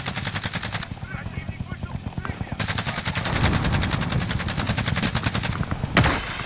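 Bursts of rapid automatic gunfire rattle through a battle royale shooter match, dense and continuous with a brief pause early on, over background game effects and radio-style callouts.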